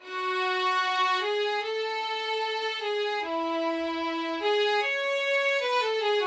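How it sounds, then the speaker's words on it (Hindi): Bowed violins play a smooth, sustained melody of connected notes with steady, rich tone, heard clearly on their own without any voices. "और ये है हमारा वायलिन का साउंड।"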